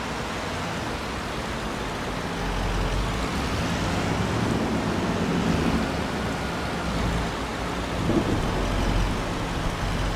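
Steady rainfall over a Louisiana farm in Farming Simulator 25, a broad continuous wash of rain noise with low rumbling beneath it, even and unbroken for several seconds with no talking.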